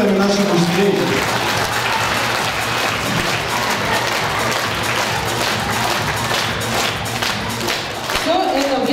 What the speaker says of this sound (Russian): Благодарим бурными аплодисментами наших учителей.